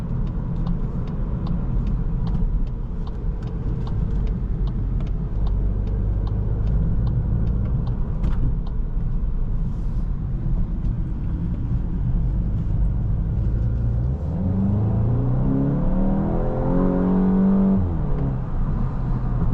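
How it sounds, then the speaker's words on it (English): A 2024 Volkswagen Golf GTI drives along with a constant low engine rumble and road noise, with soft exhaust burbles and a brief rise in revs near the end. "the exhaust has like little burbles too"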